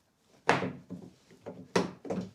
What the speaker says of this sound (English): we're gonna remove the door handle as well to see how bad the rust damage is around the area